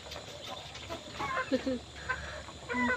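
Chickens cluck and squawk in short, scattered bursts nearby, with a voice speaking faintly in the background.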